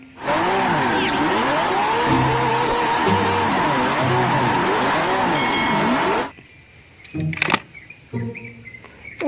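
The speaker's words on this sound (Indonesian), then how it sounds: "Widih, widih, mobil balap Lamborghini." A toy Lamborghini race car gives a steady, loud whirring motor drone with a repeating warbling engine tone for about six seconds, then cuts off, followed by brief clicks and rattles.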